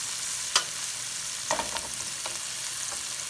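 Vegetables for a Philly cheesesteak are stirred in a hot pan under a steady, faint sizzle, with a few distinct scraping strokes. No one speaks.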